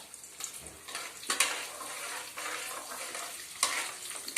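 Dried red chillies fry in oil in a pan for puliyodharai, with a continuous close sizzle and intermittent scrapes and stirring knocks of a utensil against the pan.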